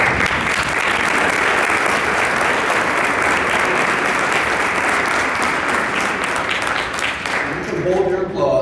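An audience at a youth academy awards banquet applauds loudly and steadily for several seconds, the clapping thinning at the close as a voice starts to speak.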